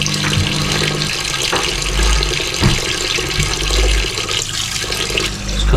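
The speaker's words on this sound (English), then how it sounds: "Freezing cold water." Freezing cold water runs steadily from a kitchen tap, a continuous loud splashing hiss with brief shifts in the flow as something is filled or moved under the stream.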